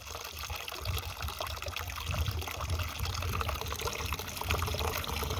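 Sauerkraut brine pours and circulates through a bowl, a steady close trickling and gurgling of liquid that carries on without a break.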